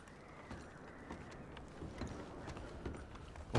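Rhythmic hoof clip-clops of horses trotting in Red Dead Redemption 2, moderately close, with faint ambient rumble beneath.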